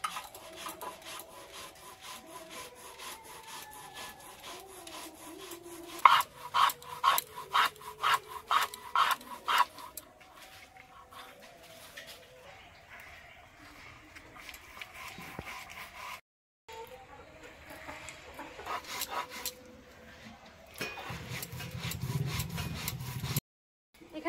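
Rice soaked for an hour is ground by hand on a stone, giving rough rubbing and scraping with a quick run of rhythmic strokes in the middle, then quieter intermittent grinding, close and without talk.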